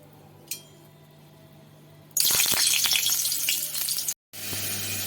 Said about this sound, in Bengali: এবার আমি এই তেলে আলু, কুমড়োগুলো সব আলাদা আলাদা করে ভেজে নেব